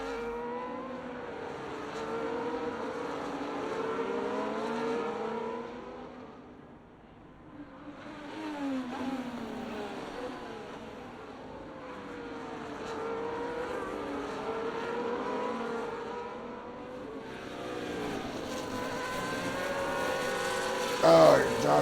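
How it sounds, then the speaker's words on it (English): Sim racing cars, including a Ferrari, circle the Singapore street circuit, engines whining and droning continuously, rising and falling through gears and corners at moderate loudness, with a brief dip midway. "Josh tried everything he can as he tries to get inside the Ferrari of Gary."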